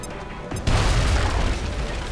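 Frag grenade exploding in the video game XCOM Long War: a sudden heavy boom after a brief quiet lead-in, followed by a sustained rumbling roar that stays loud for the rest of the clip.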